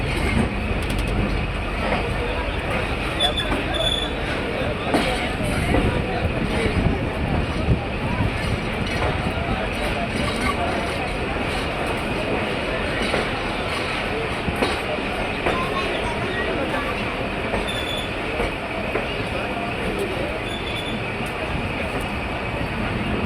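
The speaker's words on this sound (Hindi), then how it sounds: "पहुंच गए हैं हैदराबाद जंक्शन रेलवे स्टेशन पर और ट्रेन यहाँ पे 5 मिनट का स्टॉप करने के बाद आगे की तरफ रवाना होगी।" The Rehman Baba Express rolls through Hyderabad Junction station, producing a steady, loud rumble with wheel clatter and occasional squeals over about twenty seconds, with crowd noise and voices mixed in.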